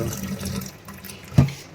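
Rajma, kabuli chana and black chickpeas being washed by hand under running water in a home kitchen, a close, continuous splashing gush with one brief louder slosh near the end.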